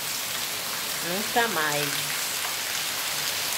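Rain falls in a neighborhood of Arapiraca in Brazil's Northeast, a constant broad hiss running throughout while someone speaks briefly over it near the middle.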